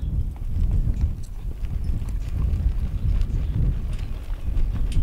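Hooves of a horse trotting, a steady rhythmic clip-clop heard up close under low wind rumble, with no talk.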